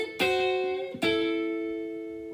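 Two picked electric guitar notes from a rockabilly jazz lick on the swing scale ring out close and clean, the second sustaining and slowly fading.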